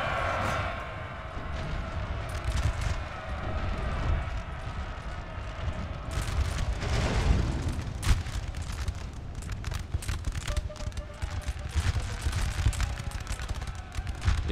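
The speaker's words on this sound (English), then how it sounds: "Lines firing in volleys." Musket volleys and cannon fire rumble through a Napoleonic Total War battle, a dense continuous roar of gunfire with sharper cracks and booms scattered throughout, loud and sustained with no break.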